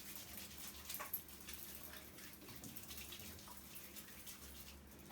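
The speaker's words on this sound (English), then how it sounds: "So the first thing you need to do is to wash your hands." Tap water running over hands during handwashing, a faint steady splashing stream with small irregular splatters, heard alone in a quiet room.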